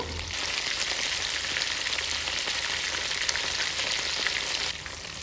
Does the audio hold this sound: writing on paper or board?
no